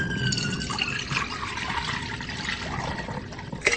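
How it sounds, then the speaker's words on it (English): Fabric bikini samples dunked in chlorinated pool water, a continuous close sloshing and trickling with small drips and a brief splash near the end. "They submerge the samples in chlorine to see if they can handle a few lengths in the pool."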